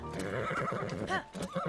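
A horse in The Legend of Zelda: Tears of the Kingdom gives a brief, wavering whinny with quick rising and falling tones over soft hoof clops, close and fairly quiet.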